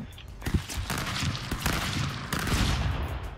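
Rapid gunfire bursts from the Stick Fight video game crackle and pop in dense clusters over about three seconds, loud and continuous with no talk.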